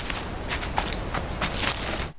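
Footsteps crunching along during a hike in an animated film, a steady run of close scuffing steps over a constant outdoor background hiss, cutting off abruptly at the end.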